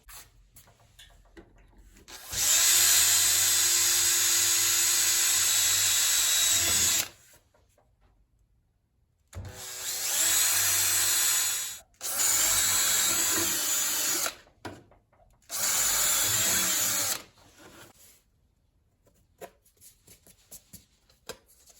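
Power drill boring through stacked MDF pieces, several loud whining bursts of a few seconds each separated by quiet pauses, close by with no talk.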